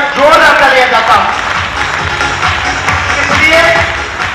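An audience at a seminar in Ludhiana applauds with broad, sustained clapping while a voice speaks over it.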